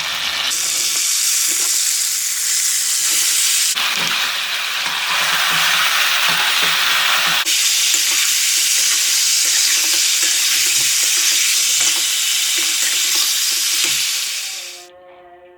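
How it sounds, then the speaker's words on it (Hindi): Chicken hitting a hot pan with garlic and green chillies for chicken achari, a loud steady sizzle and frying hiss running throughout with a brief break near four seconds, then cutting off at the end. "ये इसमें अब मैं चिकन डालने लगी जो धो के रखा था मैंने।"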